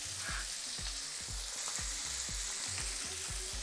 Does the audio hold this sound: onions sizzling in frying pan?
yes